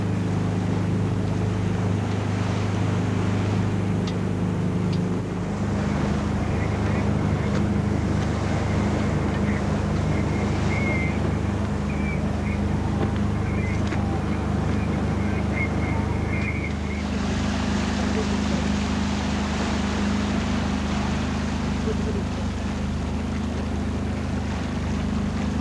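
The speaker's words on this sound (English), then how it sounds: "Speeds up to 20 knots, surfing down the waves." A racing yacht in the Cape to Rio Yacht Race surges fast down ocean waves at up to 20 knots, with continuous rushing water, hull roar and heavy wind buffeting the microphone, loud and unbroken.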